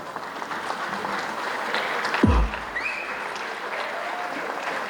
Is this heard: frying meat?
no